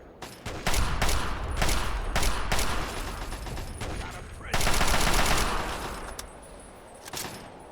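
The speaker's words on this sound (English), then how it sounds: "You shoot at Benji, that guy." Gunfire in Fallout 3, a dense run of loud rapid shots followed by a sustained burst of automatic fire, then a lone shot near the end, with faint voices between.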